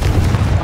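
Confringo spell blast in Hogwarts Legacy, a loud, dense, rumbling boom that fills the whole brief moment with heavy low-end energy.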